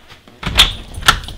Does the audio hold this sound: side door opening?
yes